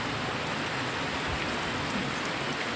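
Rain falls steadily on a rural homestead, a soft, even, continuous hiss with no voices.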